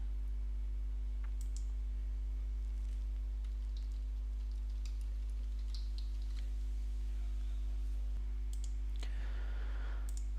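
A computer mouse gives a few faint, scattered clicks over a steady low electrical hum in a quiet room.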